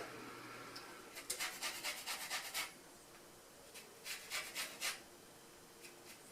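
Lemon zest is scraped on a grater in a home kitchen while making lemon pie. Two quick bursts of rhythmic, faint rasping strokes are separated by a short pause, all quiet and close with no talk.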